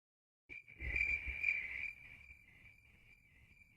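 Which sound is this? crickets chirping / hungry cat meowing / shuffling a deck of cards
crickets chirping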